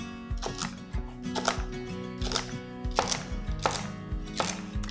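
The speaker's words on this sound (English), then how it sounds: "I've got a carrot, I'm just going to roughly chop" A knife roughly chops carrot and celery on a board, with crisp, regular thuds close up, about two strokes per second, with no talking.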